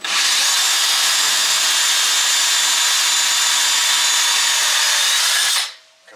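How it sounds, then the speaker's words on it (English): A power drill bores a hole through a piece of a Can-Am X3 side-by-side, a loud, steady high whine running for about five seconds before cutting off abruptly, close up with no talk. "we're going to drill this piece out, one more hole"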